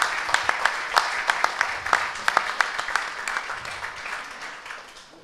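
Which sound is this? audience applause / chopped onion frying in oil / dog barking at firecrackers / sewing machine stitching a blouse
audience applause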